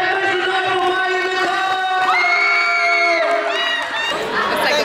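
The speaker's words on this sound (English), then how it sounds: "give a hand clap for Maya Nicole, y'all" A school crowd of students cheers and shouts loudly and continuously, with whoops and children's voices rising over a dense roar of chatter.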